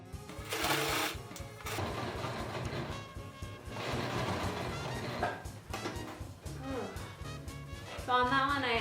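A sewing machine stitching through thick fabric, bursts of rapid mechanical chattering that start and stop several times, heard close up with a person talking between and over the runs.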